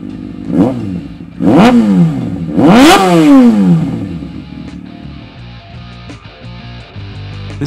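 2017 Kawasaki ZX6R Ninja 636 sport bike with a Two Brothers slip-on muffler, revved three times in sharp rising bursts, the last the longest, then settling to a loud close idle.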